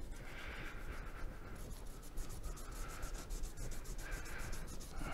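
Paint is rubbed off a Transformer toy's armrest with a cloth soaked in IPA, making a soft, continuous scrubbing sound in repeated strokes, close and fairly quiet, with no talk over it.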